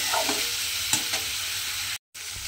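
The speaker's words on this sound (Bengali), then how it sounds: "এই সমস্ত গুঁড়ো মশলাগুলো দিয়ে আবারও কিন্তু আমি এইভাবে একটু ভাজা ভাজা করে নেব" Vegetables stir-fried with ground spices in a pan give a steady, close, loud sizzle with a few stirring scrapes, cutting out briefly near the end before resuming.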